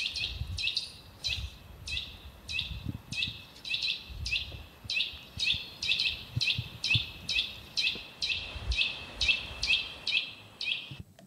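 Eurasian nuthatch song: a fast, evenly spaced series of clear, piping whistled notes repeated over and over, bright and fairly close, with light background rumble.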